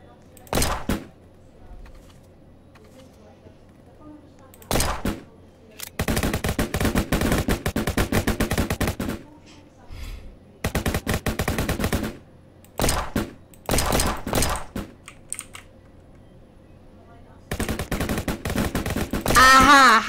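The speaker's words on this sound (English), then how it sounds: "Wait, I have an AK-7." Automatic AK rifle fire in a Roblox game, loud and close, coming in repeated rapid bursts separated by short silent gaps, with a longer sustained volley near the end.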